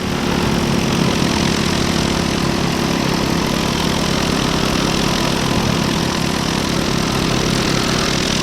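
A paramotor engine runs continuously at steady power, a loud, dense buzzing drone with no pauses or voices across the whole stretch.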